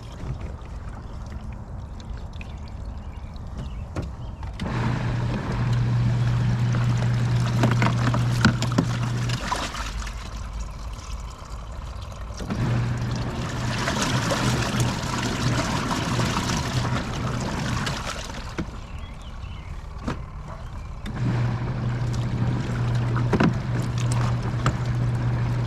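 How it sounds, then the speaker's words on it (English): Water gushes into a washing machine for laundry in several surging stretches, with a low droning hum during each fill and a softer rush between them, close and continuous with no voices. "I put the laundry soap in first, and then I let the water run in."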